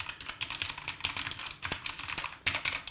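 Rapid typing on a cheap computer keyboard, the keystrokes clattering in quick irregular bursts with bright, slightly pingy clacks, close and steady without any voices.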